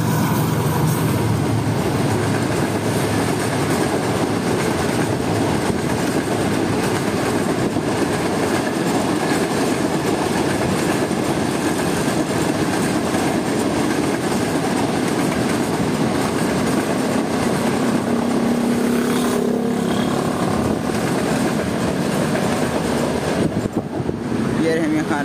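Trains pass through Rahim Yar Khan railway station in Pakistan, with a 9051-led train approaching alongside another, giving a loud, continuous rumble of rolling cars with clickety-clack wheel noise and faint squeals, steady and close throughout.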